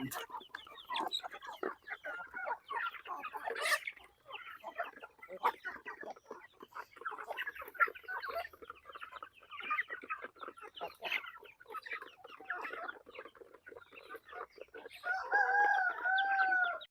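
Many native chickens, including hens, cluck and chatter continuously nearby, with a rooster crowing loudly near the end.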